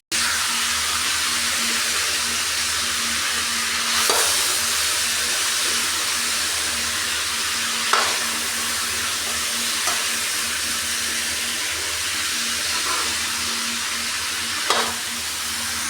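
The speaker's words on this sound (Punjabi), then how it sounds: "ਥੋੜਾ ਚਿਰ ਚਿਰ ਮੈਂ ਇਦਾਂ ਹੀ ਭੁੰਨੂਗੀ" Turnips roasting in a pan give a steady, even sizzle and hiss, with a few faint stirring scrapes and soft knocks. No voice is heard.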